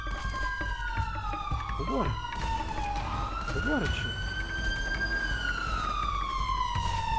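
A GTA 5 police siren sweeps down and up in long wails across the whole stretch, with rumbling vehicle noise beneath and someone briefly talking over it.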